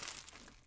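Sheets of paper from a craft kit unboxing crinkle and rustle as they are handled, a brief close-up crackle with no talking.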